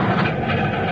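Moving passenger train, a steady loud rumble of wheels and carriage noise with faint rhythmic clatter, close and continuous throughout.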